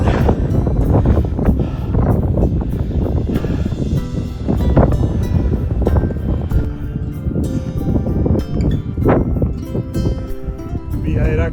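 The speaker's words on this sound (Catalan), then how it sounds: "quin vent" Strong wind buffets the microphone continuously on a hiking stretch of the Via Heràclea, part of the Camino de Santiago, with loud broadband rumble and gusty rustling throughout, while a person speaks over it.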